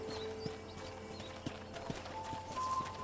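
Hooves of a horse in Red Dead Redemption clip-clop at a steady walking pace, moderately close, with a faint whinny and a low hum of background ambience.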